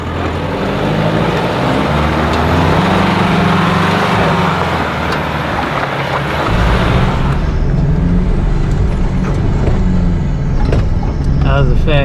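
A 4WD climbs a steep hill in second gear low range on a Coffs Harbour track, its engine droning loud and steady throughout, the pitch and load shifting partway as it works up the slope.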